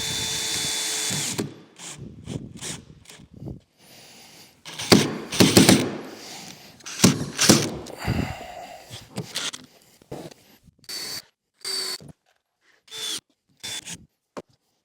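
Power drill driving a screw into the miter joint of a contemporary wooden mantel, short revving bursts with gritty grinding of the screw biting into wood, stopping and starting in quick stuttering pulses, close and fairly loud.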